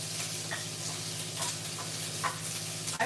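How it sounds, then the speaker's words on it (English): Frozen onions go into hot bacon grease in a pan and sizzle with a steady hiss, a few soft crackles and stirring clicks close by. "Bacon grease is going in there. First thing I'm gonna add is the onions."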